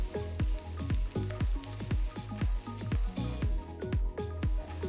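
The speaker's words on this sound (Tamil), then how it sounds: "அடுத்து 1 பெரிய வெங்காயம் பொடியை நறுக்கினது சேர்த்து 5 நிமிஷத்துக்கு வதக்குங்க" Onion sizzling in hot oil, with a steady frying hiss and repeated scraping, clattering strokes of a spoon stirring the pan.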